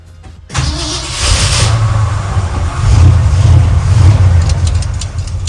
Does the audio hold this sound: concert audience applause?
no